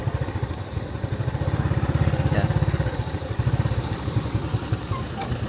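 A motorbike rides along a riverside road by the Mekong near Thakhek and Nakhon Phanom, its close engine putting in a fast, steady pulse that swells and eases, with wind buffeting throughout.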